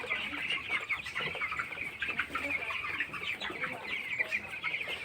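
Broiler chickens in a poultry shed peck at feed mixed with Gumboro vaccine, a steady mass of soft clucking and chirping from many birds at once, fairly faint and continuous with no talk over it.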